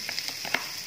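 Chopped onion frying in hot cooking oil, a steady close crackle and sizzle with small pops and no voices.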